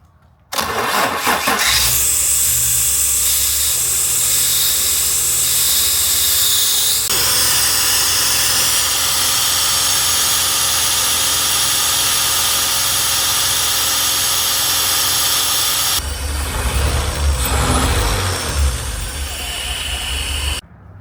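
A BMW E30 car engine cranks and catches after sitting unused for ten years, then settles into a steady, loud idle close by, with a brief revving surge near the end and voices faintly underneath.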